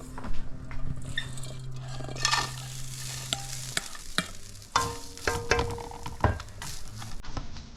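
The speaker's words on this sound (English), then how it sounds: "So let's get our coconut into the pan and get it roasted." Grated coconut roasting in a pan over medium heat, stirred with repeated scraping and clinking strokes against the metal amid a soft, steady sizzle.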